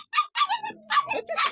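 Several dogs at a rural hillside home in the Philippines yip and bark in short, excited bursts close by, with brief whimpering notes between the barks.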